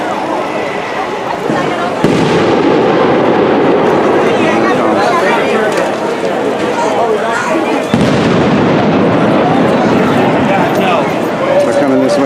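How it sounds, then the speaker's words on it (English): Repeated muffled booms and pops from concussion grenades and tear gas canisters bursting at a street protest, loud and dense throughout with a crowd roar underneath and people talking over it. "how many concussion grenades do they have? Or are those tear gas canisters exploding?"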